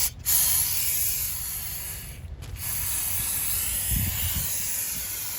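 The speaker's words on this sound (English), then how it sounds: "spray it off with some brake cleaner" Brake cleaner sprays from an aerosol can onto new wheel studs to strip off lubrication, a close continuous hiss broken by two very short pauses, with a faint low clunk near the end.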